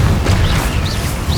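Confringo blasting spell in Hogwarts Legacy, a loud rumbling boom of explosive impact with sustained heavy low-end roar and faint whooshing streaks above it.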